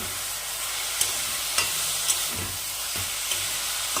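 Jaggery and grated coconut are stirred in a hot pan for vapa puli pitha filling, giving a steady broadband sizzle with regular scraping strokes and small knocks of the spoon, all without voices.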